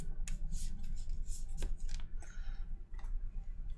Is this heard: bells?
no